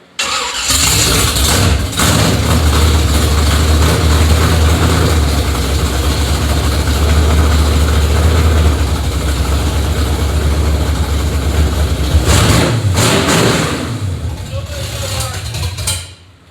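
A 1968 Camaro RS V8 runs loud and steady for about thirteen seconds with a rough, throbbing idle, then cuts out; voices talk faintly under the engine noise.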